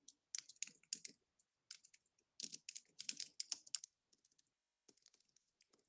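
Typing on a computer keyboard, rapid clattering bursts of keystrokes in uneven runs with short pauses, close and fairly quiet, no talking.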